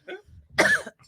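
A harsh smoker's cough rings out close up, starting with a small throat-clearing, then one strong raspy burst of hacking and a brief second cough at the end.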